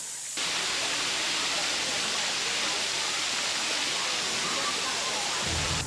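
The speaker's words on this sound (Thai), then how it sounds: "น้ำตกก็มีไม่ได้เยอะมากนะ" A waterfall running low on water in March, a steady broadband rush of falling water heard close and loud throughout, with no break in the flow.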